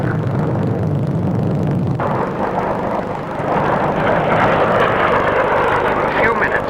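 An Avro Vulcan bomber carrying a standoff bomb flies past at the Farnborough air show, its broad engine roar steady and loud throughout, swelling slightly in the second half, with a narrator speaking over it.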